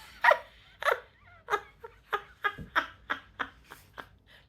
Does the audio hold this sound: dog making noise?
yes